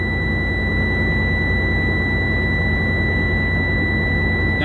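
A truck's air brake compressor builds pressure over a loud, steady engine drone, with a continuous high-pitched warning buzzer sounding throughout.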